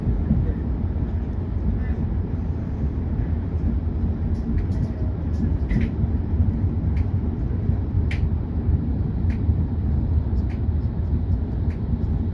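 A first-class train runs through Portlaoise railway station in Ireland with a steady low rumble of wheels and carriage, a few faint squeaks and clicks over the continuous drone, and no speech.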